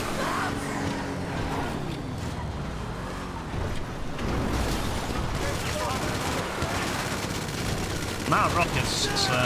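Gunfire from a GTA Online mission challenge on PS5, with steady rattling bursts and explosive booms running nearly continuously at constant loudness, mixed with engine and game noise.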